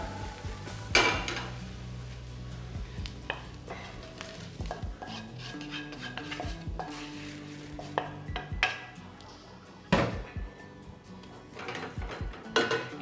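Metal pots clank and a spoon scrapes as fried onion, garlic, flour and spices are stirred and transferred into a larger pot, with soft sizzling underneath and irregular sharp knocks of cookware.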